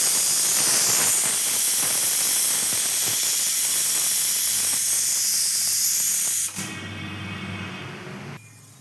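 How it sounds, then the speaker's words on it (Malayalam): Loud, continuous hiss of steam escaping from a pressure cooker whistle, holding steady for several seconds before dropping off sharply to a quieter background. "കുക്കറിന് വിസിൽ വന്നു"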